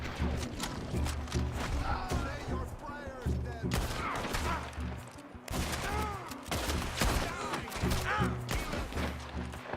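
Repeated gunfire in a Red Dead Redemption 2 shootout, with sharp rifle cracks and thuds in irregular bursts across the whole stretch over a constant low game-music drone, loud and close.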